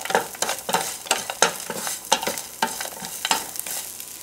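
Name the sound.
chopped onion being sautéed in a pan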